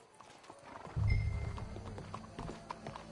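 Horse hooves clip-clop in an uneven rhythm in the video game Red Dead Redemption 2, louder for a moment and then steady, over quiet background noise.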